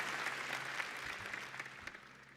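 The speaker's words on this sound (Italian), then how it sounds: "Applausi, applausi, applausi." A short burst of applause from a crowd at Google I/O, a soft wash of clapping that fades slightly toward the end.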